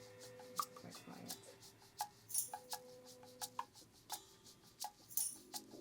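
Quiet percussion tracks from a song mix, with soft irregular ticks, taps and light clicks scattered over a faint low hum, playing alone without voices.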